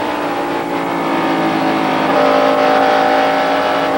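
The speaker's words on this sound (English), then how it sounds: "you hear him back in the throttle and then feather it a bit right on the bottom of turn 4" A NASCAR stock car roars at full throttle during the 1991 Budweiser 500, a loud, sustained onboard engine drone that eases slightly as the throttle is feathered near a turn.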